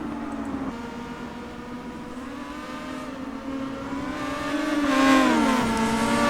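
Star Mazda race cars at Interlagos in a racing video game drone past, a sustained engine tone rising and falling in pitch and swelling louder near the end as a car closes in.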